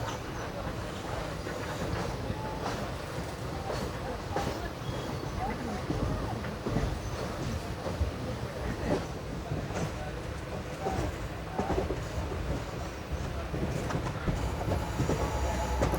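The 12134 Mangaluru–Mumbai Superfast Express runs along the Konkan Railway with a steady, loud rumble and rhythmic wheel clatter throughout, while voices murmur beneath.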